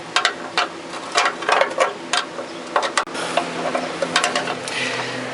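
Ratchet wrench removing bolts on a 1977 MGB Roadster, sharp rapid clicking in quick bursts close by, pausing briefly before another run of ticks over a faint background hum.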